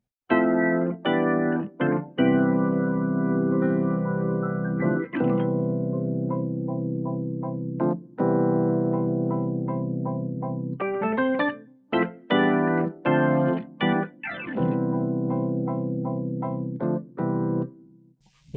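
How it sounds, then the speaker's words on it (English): Layered keys in a boom bap beat: piano chords with an organ pad sustaining underneath for texture, playing steady chord hits in a repeating rhythmic loop, loud and continuous with no voices. "all together, the keys sound like this"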